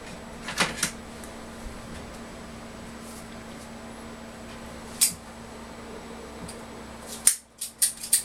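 A Montecristo Lonsdale cigar is cut with a few sharp, close snips, including a quick cluster of clicks near the end, against a quiet room hum.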